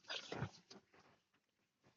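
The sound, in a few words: dog sound in horror video game Metal Horror Escape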